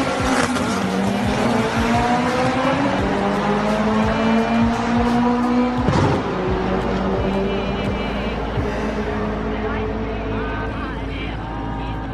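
A drag race car from a 2017 drag event revs and accelerates hard, its engine note climbing through several gear pulls with tire squeal, loud and close, then settling to a rough idle.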